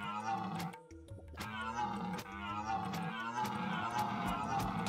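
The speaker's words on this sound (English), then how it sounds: "It's a deer." A deer-like creature in the video game Turnip Boy Commits Tax Fraud gives a roaring, growling call over game music, moderately loud and steady for several seconds.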